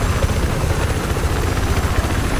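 A helicopter in the shooter game Battlefield 4 flies close, its rotor giving a loud, dense, continuous thumping roar that stays steady for the whole stretch, with no voices.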